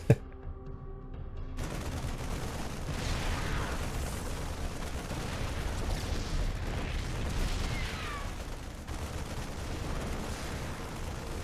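Sieged tank in StarCraft 2 firing, a steady stream of booming shots and blasts that runs the whole stretch over dense battle noise, with a sharp pop at the very start.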